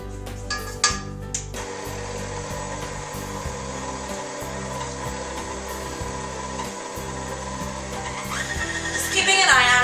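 An electric mixer blends orange cake vanilla creme in a steady, close whirring hum that briefly changes pitch and climbs louder near the end.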